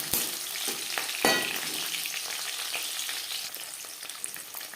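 Large onion pieces frying in oil with bay leaves, a steady soft sizzle with a couple of sharp spoon knocks near the start, fairly quiet and close, no voices.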